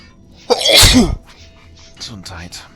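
One loud, close sneeze bursts out, followed by quieter speech.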